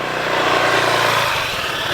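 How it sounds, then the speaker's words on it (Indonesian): A motorcycle engine runs steadily and loudly nearby, a continuous droning rumble for the whole stretch with no voices over it. "sekarang kita akan tunggu motornya akan keluar dari sana lewat sini"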